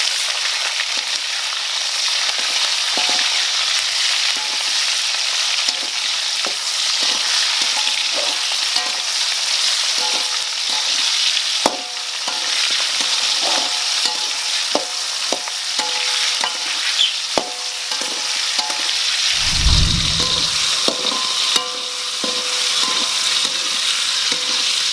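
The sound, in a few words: vegetables frying in oil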